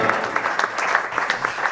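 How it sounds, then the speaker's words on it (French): A crowd claps steadily and briskly, a dense patter of applause throughout. "Bravo, on l'applaudit."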